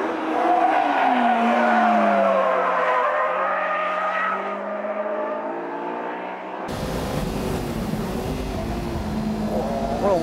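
Race car at Fuji Speedway accelerates hard up through the gears to fifth on the 1500 m straight, a loud in-car engine whine climbing in pitch with gear changes, then a harsher, broadband roar of wind and engine that runs to the end.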